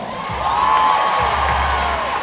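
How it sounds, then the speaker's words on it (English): An audience at a Miss South Africa pageant applauds and cheers, a steady wash of clapping with faint whoops that fills the hall throughout. "Please give them a round of applause."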